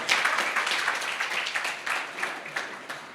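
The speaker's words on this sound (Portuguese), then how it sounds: "Dá um aplauso mais forte para ele" An audience at a church conference claps in a dense, uneven patter that rises and falls in short bursts, with no one speaking over it.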